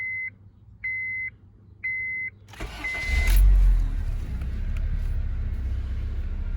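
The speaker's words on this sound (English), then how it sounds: "so let's start the vehicle" A 2006-2011 Honda Civic is started after a few short, evenly spaced electronic chimes: the starter cranks briefly and the engine catches, then settles into a steady, close idle with no talking.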